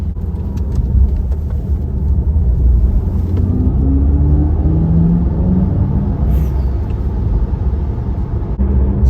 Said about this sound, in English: Audi actually had sound engineers work to engineer a sound for this car because inherently it makes almost no noise.